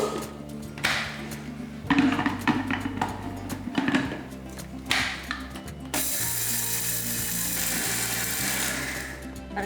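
Roasted spices for a temple-style puliyodharai powder mix being ground in a mixer grinder, a loud, steady mechanical whirring and rattling that runs in bursts and stops, then a continuous high-pitched grind.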